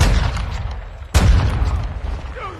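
Loud video game gunfire in a first-person shooter: a dense burst of booming shots, with a sharp, heavy report about halfway through followed by rumbling echoes and a fading ricochet-like whine.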